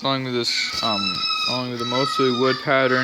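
Birds screech and squawk in the background of a video game, shrill high calls running under a man's close, continuous talking.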